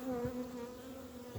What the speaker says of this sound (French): On va avoir des abeilles dedans.